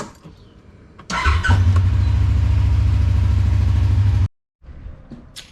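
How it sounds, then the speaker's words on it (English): A Kawasaki Teryx KRX side-by-side starts up and settles into a steady, loud, close engine idle after warm-up, running continuously before cutting off abruptly, with no talk. "All right, engine's warmed up."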